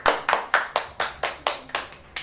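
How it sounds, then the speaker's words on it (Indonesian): Children clapping hands together during a health education session, about nine sharp, evenly spaced claps in a steady rhythm, close and clear with no talking. "Tepuk tangan adik-adik."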